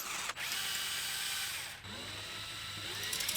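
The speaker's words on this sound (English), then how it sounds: "And we can unbolt the top of our dash." Ratcheting and mechanical clicking while unbolting the dashboard of a GMT800 Chevrolet Silverado work truck, a steady grinding whir broken by two brief pauses, close and continuous.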